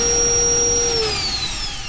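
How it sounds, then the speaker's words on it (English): A cordless 21 V turbo jet leaf blower running steadily at a selected speed, a loud continuous whooshing roar with a high whine that wavers and slides as the setting changes. "when I turn this on, this is how you select the speed of your blower"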